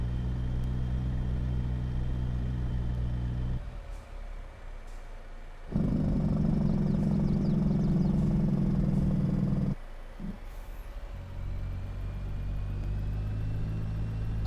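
Truck engine in Farming Simulator 22, a low, steady rumbling drone that drops to a quieter idle partway, then surges into a louder, heavier growl before settling back to its earlier hum.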